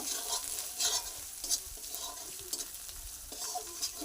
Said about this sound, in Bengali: মশলাগুলো ভালোভাবে কষিয়ে নেব।